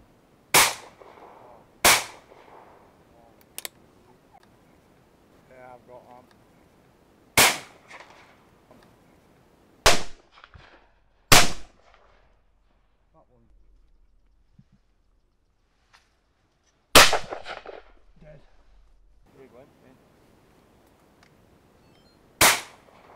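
Shotgun shots ring out at wood pigeons over a decoy magnet in the field, seven loud, sharp blasts spaced irregularly with quiet gaps, some close together in pairs, and faint talk in between.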